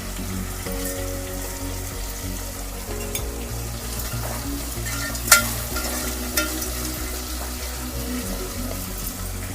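Onions sizzling steadily in a pan while frying until brown, with occasional stirring clinks and a low background hum and no voices.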